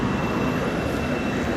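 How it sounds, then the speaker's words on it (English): An airplane passes overhead near LaGuardia Airport while someone walks along Main Street in Flushing, Queens, a steady broadband jet roar filling the whole short stretch over faint street noise. "that sound you hear is an airplane passing by"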